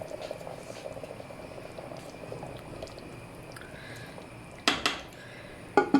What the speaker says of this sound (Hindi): अब इसमें मैं शामिल करूँ 1 गिलास पानी